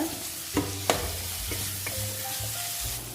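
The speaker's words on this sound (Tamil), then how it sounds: "இந்த வெங்காயம் வதங்குற அளவுக்கு நான் உப்பு போட்டுக்கிறேன். இது ஒரு 5 மினிட்ஸ் வதங்கட்டும்." Salted onions sauté in a pan for a turkey berry thokku, with a steady close sizzle and a few sharp scrapes and knocks from a stirring spoon.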